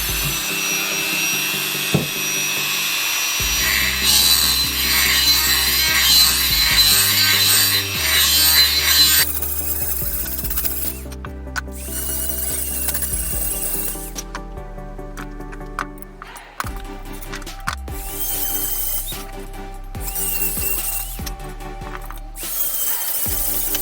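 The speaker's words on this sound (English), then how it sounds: "I'm going to have a go with the Dremel just to open that up." A high-pitched Dremel rotary tool whines and grinds in bursts opening up a metal swing arm bushing on a Honda CB450 motorcycle, stopping and starting several times, with scraping contact sounds between runs.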